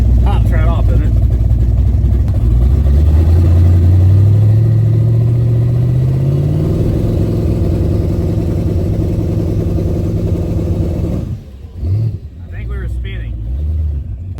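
Big block twin turbo Ford Fairmont engine running loud and close, rising in pitch as revs climb through a launch, then dropping away near the end with voices talking over it.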